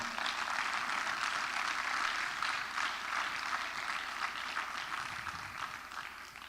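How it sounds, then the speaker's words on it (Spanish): An audience applauds in a theatre, a dense, steady wash of clapping that stays loud throughout and eases off slightly toward the end, with no voices standing out. "Dale un aplauso a Cristo."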